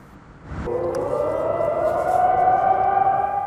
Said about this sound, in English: Air raid sirens can still be heard daily